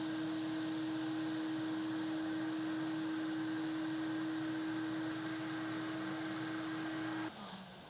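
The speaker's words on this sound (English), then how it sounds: "And then turn on the vacuum." A steady, loud vacuum cleaner drone with a constant whine pulls dirt out of car carpet, running unbroken for several seconds before the pitch drops slightly near the end.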